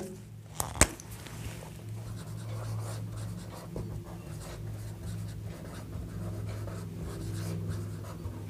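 A pen scratches across paper while a geometry problem is worked out, soft close strokes with a couple of sharp taps early on, over quiet room tone.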